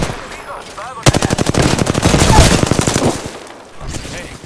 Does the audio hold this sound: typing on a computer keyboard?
no